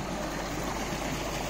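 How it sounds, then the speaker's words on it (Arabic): Farm wastewater spilling like a waterfall into a river in Hillah, a steady, loud rushing flow heard close and alone, without pause or voices. "شو هذا الجمال منه، كأنما شلال"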